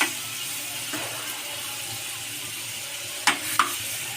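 Butter sizzling in a pan of matar paneer gravy, a steady soft hiss of frying heard close up, with a couple of light utensil clinks near the end.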